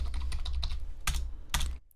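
Rapid keystrokes on a computer keyboard while typing CSS code, a steady clatter of close clicks with two louder bursts of keys near the end, no voices.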